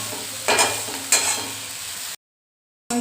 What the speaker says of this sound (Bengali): নুন হলুদ দিয়ে আমি কমিয়ে ভালো করে এটাকে টানাবো